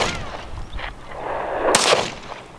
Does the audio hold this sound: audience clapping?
no